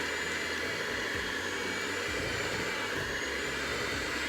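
An electric mixer whirs on low speed through death by chocolate cheesecake batter, a steady, moderate hum with slight wavering pitch throughout.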